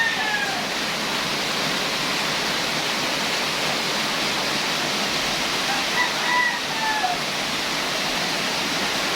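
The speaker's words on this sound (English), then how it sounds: "Oh, there's a little waterfall here." A small waterfall pours steadily in rainy weather, a broad continuous rush of falling water that stays even throughout, with a few faint high chirps over it.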